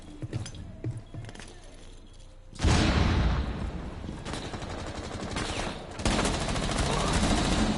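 Gunfire in the video game Rainbow Six Siege: after a quieter stretch with faint sounds, loud bursts of rapid shots break in and continue densely, with a second heavy burst later.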